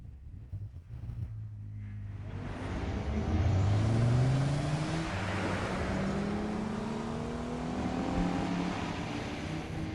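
A car speeds along with a rising, revving engine rumble that swells and shifts pitch as it accelerates, loud and steady throughout with no voices.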